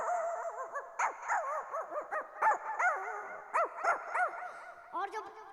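A voice imitates a puppy, a run of high whimpering yips and small bark-like cries in quick uneven bursts, close and clear, performed live before an audience.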